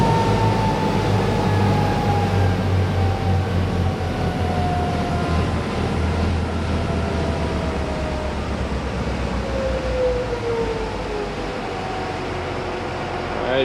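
A 1999 Tiara 3500 Open cruiser with twin CAT 3116 diesels throttles back and comes off plane, a loud steady engine drone and hull rush that slowly eases in level throughout, with no talking.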